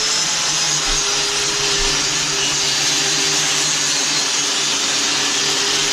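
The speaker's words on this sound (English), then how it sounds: "We're having to grind all these off so we can put new ones in" A power grinding tool grinds worn parts off a sickle mower during repair, a loud, steady, high-pitched whine with a continuous abrasive hiss that holds without a break throughout, with no talk over it.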